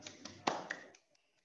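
A few hand claps during an online motivational talk on literacy, several sharp close slaps in an uneven rhythm over about a second before stopping.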